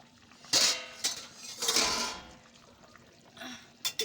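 A metal lid lifted off a pot of chicken curry cooking on the stove, a few sharp clanks and rattles near the start followed by a softer scrape and a final clink.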